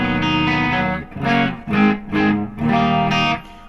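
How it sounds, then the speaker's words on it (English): An electric bass plays sustained, rich notes through a plate reverb and an EP booster, giving a thick, slightly distorted, ringing tone in five loud phrases with brief dips between them. "So there's my bass tone with the reverb and the EP booster always on."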